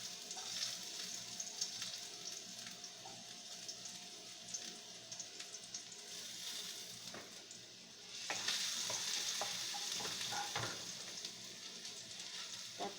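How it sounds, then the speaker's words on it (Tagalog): Garlic and vegetables sauté in hot oil for tortang patola, a steady crackling sizzle with occasional stirring scrapes and pops, close and continuous, growing a bit louder midway. "Gisa muna po natin yung mga gulay. Lagyan muna natin yung ating bawang."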